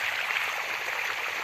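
Borewell water pours out steadily in a farm field during hot summer, a continuous close rushing hiss like a small stream, even and uninterrupted for the whole short moment with no talk over it.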